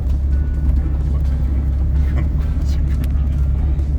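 A car with functional vents fitted into its hood drives along, its steady low engine and road rumble running continuously and fairly close throughout.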